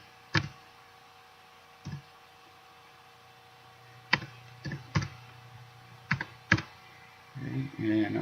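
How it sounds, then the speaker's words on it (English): Sparse, close computer keyboard clicks sound in short bursts and single taps separated by quiet pauses, over a faint steady hum, with a brief murmur near the end. "So I'm just going to start typing."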